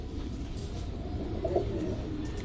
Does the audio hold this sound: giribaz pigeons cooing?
yes